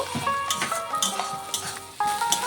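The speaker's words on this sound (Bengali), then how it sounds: "পেঁয়াজ আর লঙ্কাটাকে আমি কিছুক্ষণ রান্না করে নেব" Onion and green chili frying in a pan, giving a steady sizzle with stirring scrapes and occasional clinks of a utensil against the pan, close and fairly loud with no talk.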